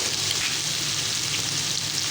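Tomatoes and ketchup hitting a hot pan for a homemade pasta sauce, giving a dense, even sizzle that hisses steadily throughout, with nobody speaking.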